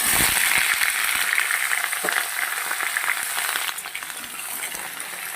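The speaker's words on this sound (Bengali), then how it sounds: "সবজিটা বেশ সুন্দর করে আমি আগে ভেজে নেব" Vegetables fry in a hot pan for a vegetarian curry, giving a bright, continuous sizzle with scraping stir strokes early on, easing slightly in the final seconds; close and clear, with no talk.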